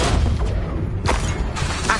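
Confringo blasting spells burst in Hogwarts Legacy combat, a run of close, punchy booms with sharp cracks about every half second over a continuous low rumble.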